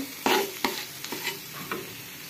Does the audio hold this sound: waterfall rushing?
no